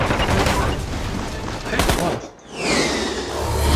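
Dense, continuous gunfire in the shooter Metro Conflict rattles loudly throughout, with a brief lull midway before the volleys pick up again.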